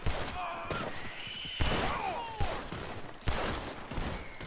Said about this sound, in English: Why am I shooting at nothing?